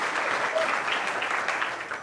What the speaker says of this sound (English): Let's give an applause for our Puig talk.